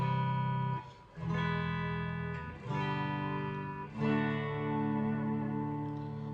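Distorted electric guitar chords on the bridge pickup of a 2025 limited edition PRS CE22 ring out in sustained, overdriven strums, played alone with a few brief pauses between them.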